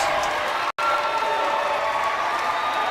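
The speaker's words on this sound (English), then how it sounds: "The SAR fans applauding their" Basketball fans in a high school tournament gym applaud their team as the starters come off the court: dense, steady clapping and crowd noise with one very brief break partway through.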